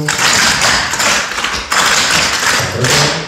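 Clogging shoes tap and brush on a hard floor during a rocking chair step at practice, giving a dense, steady run of close, loud taps that continues throughout.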